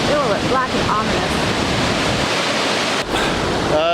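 Rushing water at Cascade Falls on the Kettle Valley River, running very high, roars as a steady, loud broadband wash with wind buffeting the microphone, plus a few faint high chirps, probably birds.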